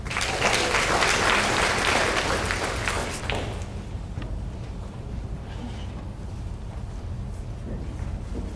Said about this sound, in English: Let's give these students a round of applause, please.